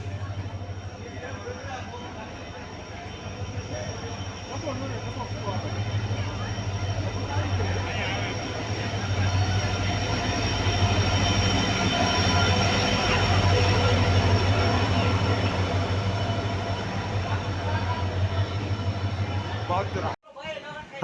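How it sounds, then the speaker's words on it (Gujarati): A Mumbai-bound train pulls into Junagadh railway station, its steady low rumble and rolling rail noise growing a little louder midway and holding throughout, with platform crowd murmur and occasional voices beneath before an abrupt cut near the end. "મુંબઈ વાળી ટ્રેન આવી ગઈ છે"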